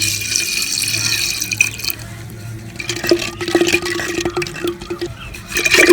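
Milk poured from a container into mango pulp smoothie for a mango milkshake, a steady liquid splashing and trickling close by, louder at the start and end with brief drips in between.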